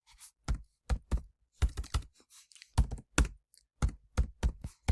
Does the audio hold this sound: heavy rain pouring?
no